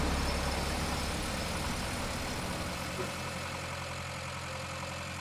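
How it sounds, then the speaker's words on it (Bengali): A car engine rumbles in a low idle, then gradually weakens and dies away, a sound effect in an animated horror film after a crash into a tree. "গাড়ির ইঞ্জিন থেকেও আওয়াজ হতে হতে ইঞ্জিন বন্ধ হয়ে গেল।"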